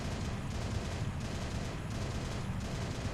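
Rapid, sustained gunfire in the Halo: Reach campaign on Legendary difficulty, a dense continuous barrage with periodic bursts roughly every half second, loud and close, with no talking.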